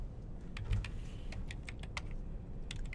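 Fingers type on a computer keyboard to enter text, giving a quiet, close series of sharp key clicks. The taps come in irregular short bursts and single presses over a soft background, with no speech.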